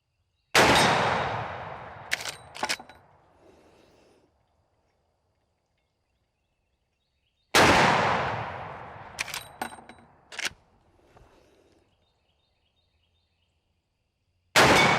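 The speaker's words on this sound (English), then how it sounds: "I think we need to shoot some more rounds." Shots from a Henry X Model side gate 45-70 lever-action rifle: two loud booming reports with echoing decay, each followed by metallic clacks of the lever action. A third shot begins at the very end.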